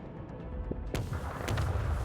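Torpedoes launch in the video game Warhammer 40k Rogue Trader, two booming thuds about half a second apart followed by a low rumble, fairly close and moderately loud, with no talking.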